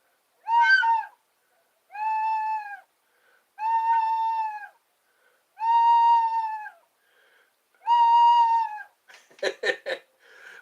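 A person imitates a kitten meowing, giving five drawn-out, high-pitched mews spaced about every second and a half, close and clear, followed by a short burst of quicker, warbling cries.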